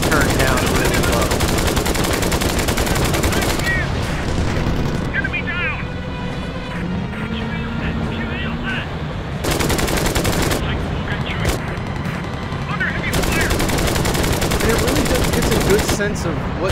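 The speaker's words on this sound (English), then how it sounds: "just unleashing hell with the machine guns" Machine guns rattle in sustained dense bursts during a close-range aerial dogfight in the video game Flying Tigers: Shadows Over China, loud and continuous with booming explosions mixed in throughout.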